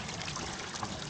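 Tap water pouring steadily into a camper van's tank at a roadside filling point, a constant broadband trickle and rush with no pauses, fairly close and moderate in level.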